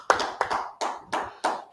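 Hands clap in unison at a brotherhood class gathering, with five or six sharp, evenly spaced claps in a steady rhythm, close and fairly loud with no talking.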